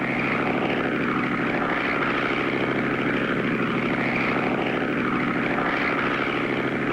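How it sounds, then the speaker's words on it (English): A propeller crop-duster airplane flies low, pass after pass over rows of cotton, its engine a steady loud drone with slight rises and falls throughout and no voices. "Clutch and Company make pass after pass up and down the rows of cotton until they reach the final row"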